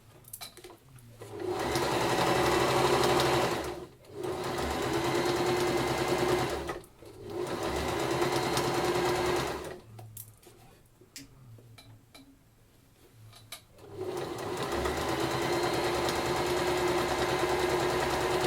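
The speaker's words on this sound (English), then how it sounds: "we'll just sew down this line and try and avoid stretching the fabric as you do so" A sewing machine stitches a seam along fabric cut on the bias, running in loud, close bursts of several seconds separated by short pauses, with a quieter stretch of handling before the final long run.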